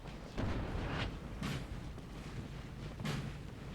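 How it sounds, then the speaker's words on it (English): Artillery fire on a Napoleonic battlefield in Napoleon Total War, with three booming blasts at roughly even intervals over a steady rumbling, wind-like background, moderately distant and fairly quiet. "They're getting shot at by artillery."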